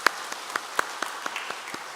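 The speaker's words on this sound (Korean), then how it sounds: "우선 감사의 박수 한번 하겠습니다" A church congregation at a Wednesday worship service claps in thanks, a sparse, fairly quiet applause with distinct individual claps, several of them landing in a loose, nearly regular rhythm.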